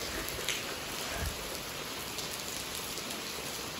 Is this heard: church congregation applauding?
no